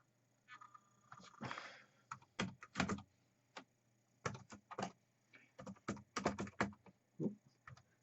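Fast, close typing on a new computer keyboard while setting up a Raspberry Pi 4, with bursts of clattering keystrokes separated by brief pauses.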